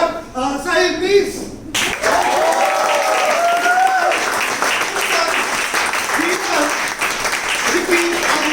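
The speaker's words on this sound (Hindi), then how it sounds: "ताली बजाना" An audience claps together at an improv student showcase: a burst of applause at the start, then steady crowd clapping that carries under a speaking voice and a rhythmic counting chant.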